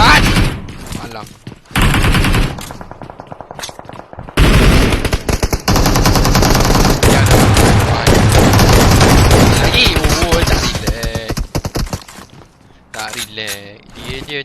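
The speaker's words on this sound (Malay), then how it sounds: "Dia cuba lepaskan tembakan macam tu je." Rapid automatic gunfire in a video game scrim, loud bursts of machine-gun fire coming in several volleys with short gaps, over excited commentators talking.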